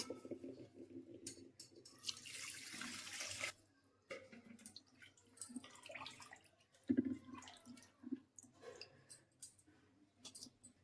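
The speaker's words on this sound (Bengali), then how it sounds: "তারপরে এটা একটু পানি দিয়ে দেবো।" Water poured into a pot of lentils and spinach, a close splashing pour in the first few seconds followed by scattered small clinks and drips.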